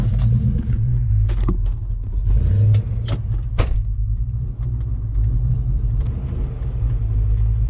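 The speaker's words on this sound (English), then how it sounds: "So I'm going to see if I can move the car real quick." A Ford car's engine rumbles steadily at an outdoor all-Ford cruise-in as the car is moved, a continuous low drone with a few brief sharper knocks and clicks over it, fairly close and with no talk.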